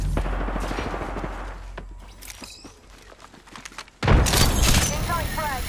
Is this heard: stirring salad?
no